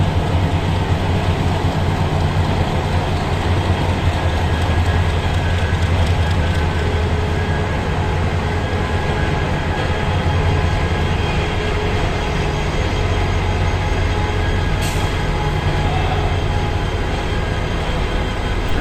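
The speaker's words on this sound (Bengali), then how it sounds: "এখানে ভিতরে কিছুক্ষণ বসার পর দেখলাম একটা মালগাড়ি চলে যাচ্ছে।" A freight train rumbles past continuously, a loud, steady roar of wheels and wagons with a brief high squeal near the end.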